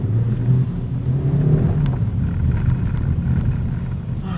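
Interior of a Ford Focus driving in traffic on a test drive: a loud, steady low engine and road rumble with a brief rise in engine pitch early on, and no voices.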